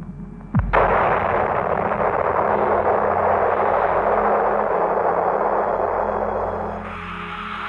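Shock wave from a nuclear test explosion at the Semipalatinsk test site arrives as a sudden deep blast, then turns into a sustained loud roaring rumble that fades slightly near the end.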